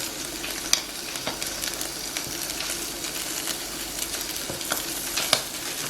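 Raw broccoli pan frying in extra virgin olive oil, a steady close sizzle broken by occasional scrapes and clacks of stirring.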